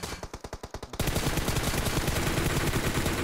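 Gunfire in a mobile shooter video game: a few quick, evenly spaced shots for the first second, then a loud, dense, unbroken stream of automatic fire to the end.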